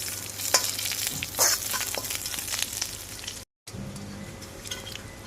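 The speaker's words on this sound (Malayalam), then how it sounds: "ഇളക്കി കൊടുക്കാം" Butter cassava fries in a pan while being stirred, a close crackling sizzle with scraping stir strokes and a brief cut to silence partway through.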